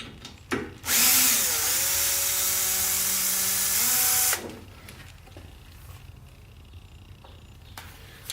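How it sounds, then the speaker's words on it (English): A cordless drill with a T25 bit drives screws while installing aftermarket doors on a Can-Am Commander side-by-side, whining loud and close for about three seconds as the motor pitch shifts, then stopping to quiet shop background. "Same thing, T25 in the cordless."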